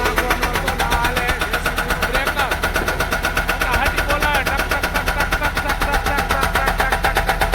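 A loader's engine runs loud and close with a steady, rapid mechanical chugging that pulses evenly throughout, with people talking over it.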